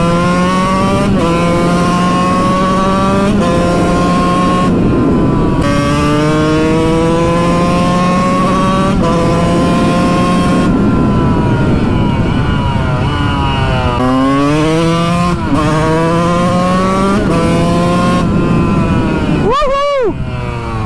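A Kawasaki KX 125 two-stroke set up as a motard rides hard, its engine loud and near as it revs up repeatedly through rising pitch sweeps, with short drops between pulls and a sharp high rev at the end.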